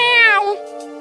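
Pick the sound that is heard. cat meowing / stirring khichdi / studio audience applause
cat meowing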